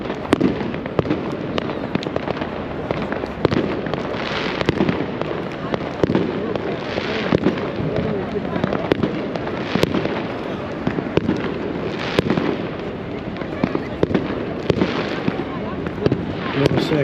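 Dense, continuous crackling and popping of fireworks on bonfire night, loud and close with sharp bangs scattered throughout, and voices talking underneath.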